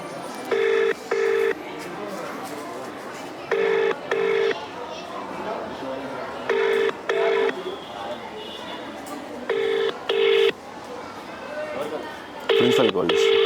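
A telephone ringing on an outgoing call, paired ring tones repeating about every three seconds over steady background talk and room noise, fairly loud.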